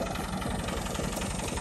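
A Massey tractor engine runs steadily while leveling a field, a continuous rough, mid-to-low rumble with an even, unbroken drone and no voices.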